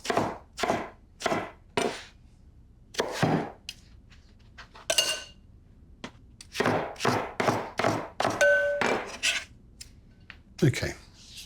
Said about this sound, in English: With a spoon, just scrape it clean. And again with the inside.